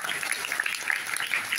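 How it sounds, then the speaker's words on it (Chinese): An audience clapping for the leaders in the front row, a brief burst of fairly faint, dense applause with scattered individual claps. "我们要给前排的大领导们一个热烈掌声"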